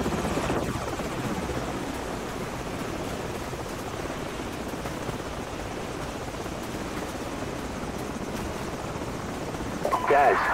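Enemy helicopters in Call of Duty 4: Modern Warfare send a loud, steady rotor roar through the whole scene, with a sweeping pass at the start and a brief sharper burst near the end.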